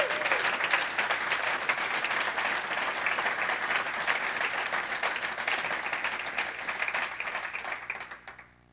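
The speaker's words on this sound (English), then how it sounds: "I think it's deserving an applause there as well." An audience at a hacker conference closing ceremony applauds with dense, sustained clapping that holds steady before tapering off and stopping near the end.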